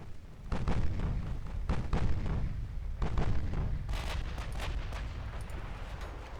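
16-inch battleship main guns firing high-explosive shells in the naval game Ultimate Admiral: Dreadnoughts, several loud booming salvos in quick succession with rumbling tails and no voices.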